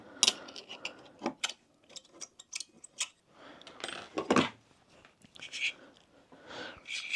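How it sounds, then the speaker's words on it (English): Feed rollers of an Enjoywood roller auxiliary featherboard being turned by hand, producing faint, irregular ratcheting clicks and clacks in short bursts with quiet gaps between them. "just turning them rollers over."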